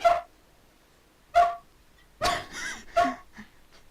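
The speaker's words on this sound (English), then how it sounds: "And there was a dog." A dog gives four short, sharp barks spaced about a second apart, close and fairly loud, with quiet pauses between them.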